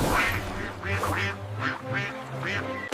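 Repeated duck quacking over the steady tones of a children's phonics song, with about four evenly spaced, clear quack bursts in quick succession.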